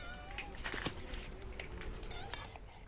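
A colony of feral domestic cats fed by villagers in Ginostra, with several overlapping meows and cries against a busy, noisy outdoor background.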